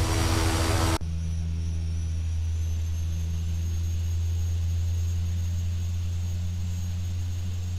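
Steady aircraft engine drone from an X-Plane flight simulator while taxiing toward the runway at Southend, a continuous tonal hum held throughout after a brief burst of broadband noise at the start.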